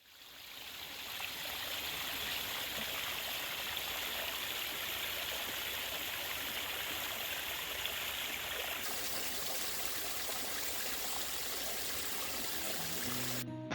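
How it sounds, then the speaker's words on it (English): A stream runs steadily in the background at a quiet residential urbanization in El Raso, Spain, a soft, continuous rush and trickle of water that holds evenly throughout with no voices. "I loved the quiet atmosphere with the sound of water in the background"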